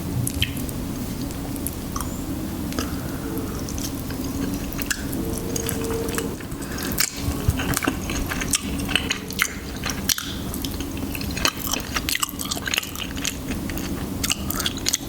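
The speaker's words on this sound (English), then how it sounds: "I want to try these ribs." Close-up, wet squishy chewing and biting of barbecue ribs with sauce, from a Dinosaur Bar-B-Que plate, a steady run of soft smacks and crunches with no talking.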